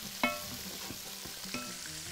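Fish and onions frying in a pan: a faint steady sizzle with a couple of soft clinks from the spatula, quiet and close.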